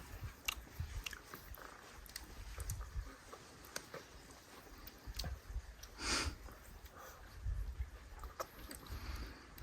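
Close biting and wet chewing of a fresh garden tomato, with soft crunchy bursts scattered through the clip and one louder bite near the middle, over faint outdoor background noise.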